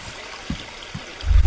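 Steady flowing stream ambience from a nighttime nature level in the stealth game Aragami, a soft continuous wash of water with a few faint low thumps and a louder rumble near the end.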